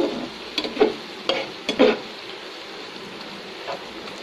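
Hilsa fish frying in mustard oil gives a steady sizzle, with a few sharp stirring or spatula clatters near the start and faint speech in the background.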